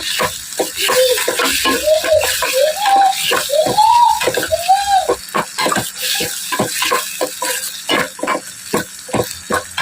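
Tomato pasta sauce with chilli flakes sizzling in a pan, loud and close, with a spoon scraping and stirring in irregular strokes and a whistling tone rising and falling midway.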